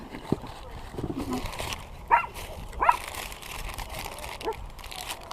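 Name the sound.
neighbor's dogs barking nearby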